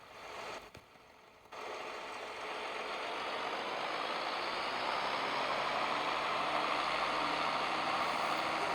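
A steady tractor engine drone hums continuously after a brief dip near the start, from Farming Simulator 23, with no talking.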